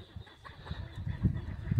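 A broody hen clucks softly and low among small hens kept outdoors, the faint, irregular clucks rising slightly toward the end.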